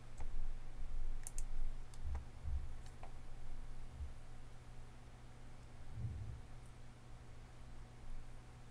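Several faint, separate mouse clicks over a steady low computer hum as an Android app is launched from a development environment, with long quiet gaps between them.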